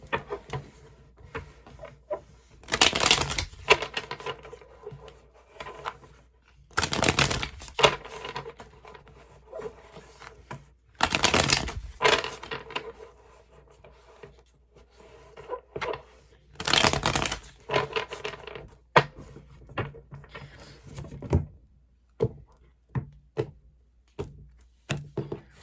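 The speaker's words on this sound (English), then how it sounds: "I'm just gonna shuffle a bit, okay?" Cards riffled and shuffled in several quick bursts, with soft taps and pauses between each shuffle, close and fairly quiet.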